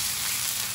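Garlic frying in butter and oil in a pan gives a continuous, close, bright hiss and sizzle that holds steady and even with no talking.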